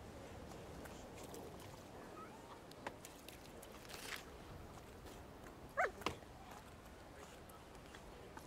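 A dog in the video game The Thaumaturge gives a brief pair of barks or whimpers partway through, standing out faintly against steady ambient background noise.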